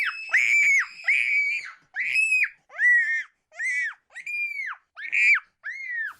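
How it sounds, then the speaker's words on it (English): Children scream loudly in a rapid series of eight piercing, high-pitched shrieks, each under a second long and separated by brief gaps, close to a home camera. "The children are seen in this video, apparently chasing off the alleged criminal by screaming loudly."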